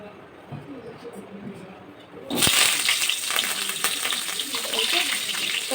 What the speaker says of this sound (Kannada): ಕಾಳಿಗೆ ಒಗ್ಗರಣೆ ಹಾಕ್ತೀನಿ ತೋರಿಸ್ತೀನಿ ನೋಡಿ